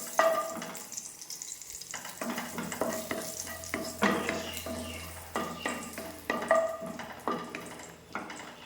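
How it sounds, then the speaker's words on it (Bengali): Dried red chillies fry in hot oil in a wok, making close, loud bursts of sizzling crackle with scraping stirring strokes at irregular intervals and no voices. "তেলটা গরম হয়ে গেছে, এখন আমি শুকনো লঙ্কাটা দিয়ে দেব।"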